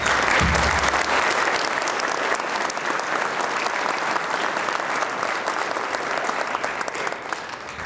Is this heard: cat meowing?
no